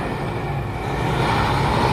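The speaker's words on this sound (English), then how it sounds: "Could you be any louder, big truck?" A heavy truck rumbles past close by on a New York City street, a loud, steady low roar of engine and road noise that swells slightly toward the end.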